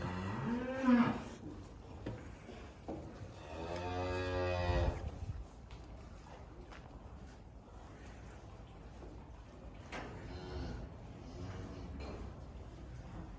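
Cattle on a farm in Germany moo in a few loud, drawn-out calls, one early and a longer one near the middle, with quieter lowing later over a steady background.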